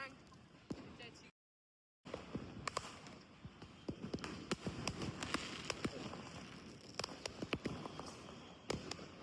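Sharp firecracker bursts go off at Diwali in a muddy open ground at Shivaji Park, Dadar, scattered pops near and far over a steady crowd murmur, with a brief dropout early on.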